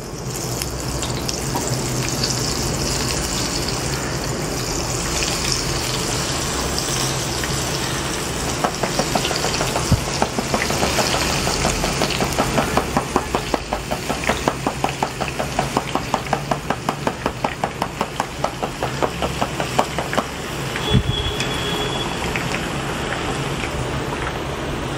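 Motichoor ladoo boondi batter drops into hot oil and fries with a loud, steady, bubbling sizzle throughout, with a rapid pattering texture in the middle stretch and no talk.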